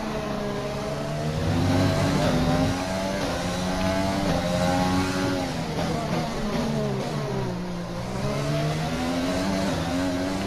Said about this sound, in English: The engine just feels like it's screaming when it does that.